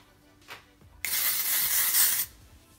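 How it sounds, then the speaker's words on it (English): A single hiss of hair spray lasting about a second, applied to hair during a curling routine with a wand, close and alone after a faint rustle. "So I'm just gonna spray this in because I need all the help that I can get."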